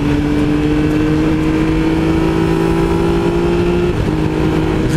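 Triumph Tiger 1200 XCA three-cylinder motorcycle engine pulling smoothly under acceleration, a loud steady close drone with a slowly rising pitch and a brief dip near the end, likely a gear change.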